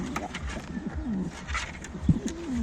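Pigeons coo softly inside a coop, low rolling calls repeating over steady background noise.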